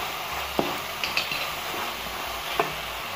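Vegetables sautéed with chili garlic sauce in a pan give a steady background sizzle, with a few soft clinks and scrapes as a utensil stirs them.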